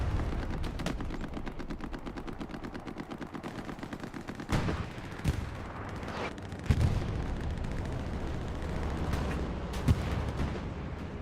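Rapid gunfire with a few heavy cannon blasts from tanks in the WWII shooter game Hell Let Loose, a dense continuous barrage of shots with louder booms standing out, no talking.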